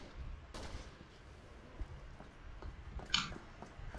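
Gunfire in Resident Evil 6, a couple of sharp, fairly faint shots spaced a few seconds apart over a low, rumbling background.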